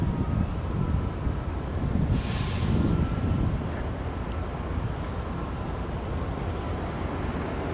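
Northbound local passenger train 121, a commuter service making every stop to San Francisco, rolls into Santa Clara station with a steady broad rumble and rush of wind on the platform, one brief high squeal partway through, no talk.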